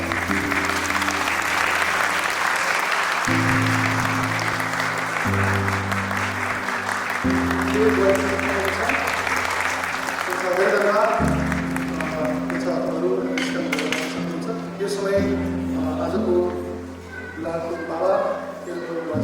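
Guests at a Nepali wedding ceremony applaud in a sustained round of clapping, with music playing and voices heard alongside it before the clapping fades toward the end.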